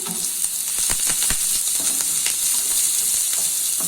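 Oil sizzling steadily as sliced onion and garlic cloves fry over a medium flame, with scattered stirring taps and scrapes over the constant hiss.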